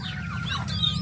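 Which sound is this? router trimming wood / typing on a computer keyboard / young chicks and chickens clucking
young chicks and chickens clucking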